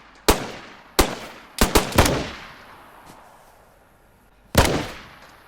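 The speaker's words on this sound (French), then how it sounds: "Bordel, j'ai tiré dans la tête 3 fois." Gunshots in the video game DayZ, five sharp loud reports in an uneven sequence, each with a decaying echo, and a final shot after a pause.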